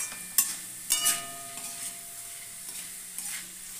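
Salted cut potatoes fry in a pan, a faint continuous sizzle with several sharp scrapes and clinks of stirring, the loudest near the start and fainter ones later.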